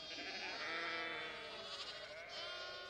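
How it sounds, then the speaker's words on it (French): Several sheep and lambs bleat continuously on a farm, overlapping calls of varied pitch filling the clip at close range, with no talking. "À la ferme, il y a des moutons et des agneaux."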